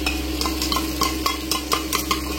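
A spice paste of ginger, garlic, melon seeds, cashews, coriander and green cardamom is stirred into mutton in a clay pot over a fire, with rhythmic scraping strokes about every quarter second over a low, steady hum and faint sizzle.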